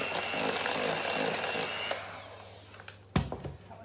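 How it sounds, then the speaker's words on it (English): Cupcake batter of eggs and flour is whisked with a loud, steady whirring that runs for about two seconds before fading, followed by a sharp clatter close by. "And then we need to whisk it again."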